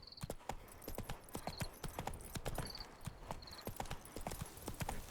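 Horse hooves clip-clop in steady, evenly spaced beats in The Witcher 3, close and clear, with an occasional faint whinny and no talk over them.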